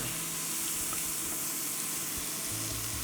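Minced garlic sizzling in a hot pan for a quick beef bourguignon, a loud, dense, continuous hiss and crackle heard close up with no voices.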